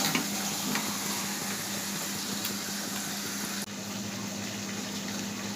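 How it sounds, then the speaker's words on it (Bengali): Chicken pieces are stir-fried in spiced oil, giving a steady, close sizzle with scraping from the stirring and a brief dip partway through. No one speaks. "চিকেনটা দিয়ে ভালো করে কষিয়ে"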